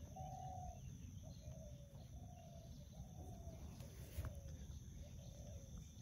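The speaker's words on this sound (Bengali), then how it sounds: "সকালবেলা ঘুঘু ডাকে।" Doves coo on a misty morning over a vegetable plot of radish and spinach, a series of soft, evenly spaced calls at moderate distance above a hushed outdoor hum.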